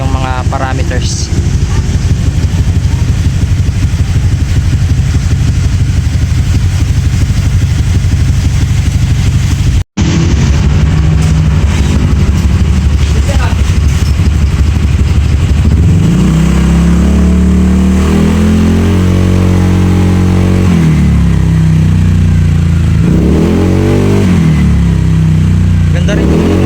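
A Honda Click 125 scooter fitted with a new exhaust pipe revs on a dyno, loud and close, with repeated rising and falling engine sweeps in the later part under continuous talking.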